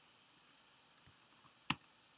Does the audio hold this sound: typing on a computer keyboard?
yes